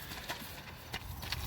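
A young horse at a sale is led by hand, its hooves giving a few faint, irregular clip-clops on the ground, quiet and distant.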